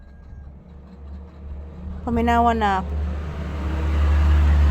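A large truck passes by as a deep, low rumble that swells and grows louder toward the end, while a person speaks briefly over it.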